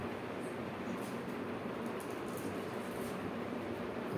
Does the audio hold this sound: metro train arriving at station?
yes